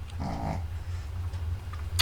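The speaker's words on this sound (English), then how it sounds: "Sorry about my dog, Bella's snoring." A sleeping dog named Bella gives one soft, throaty snort near the start, then quiet low breathing follows in a calm indoor room.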